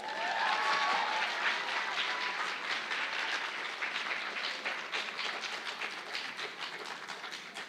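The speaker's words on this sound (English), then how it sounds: "about a round of applause for Cody Reese one more time?" A concert audience at a percussion evening applauds, dense, sustained clapping that fills the hall and slowly tapers off, with no talking over it.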